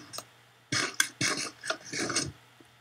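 Several short mechanical clicks and clunks of levers in Minecraft in an uneven cluster, fairly quiet, with brief pauses between them and no talking.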